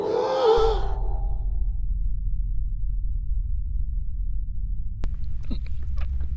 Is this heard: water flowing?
no